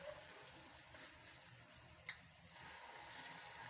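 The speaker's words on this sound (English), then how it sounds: "let's keep frying" Nigerian puff puff batter frying in oil in a pan, a quiet steady sizzle with a small clink partway through, no talk.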